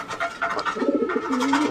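Fancy pigeons at a backyard pigeon and poultry farm in Muktagacha, Mymensingh, coo softly in repeated throaty, rolling calls, close by, with other bird chirps scattered over them and no voices.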